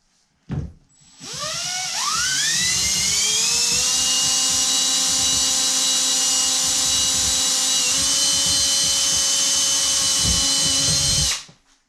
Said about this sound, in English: I'm just going to pre-drill them. Got a drill bit same size as the screws I'm using.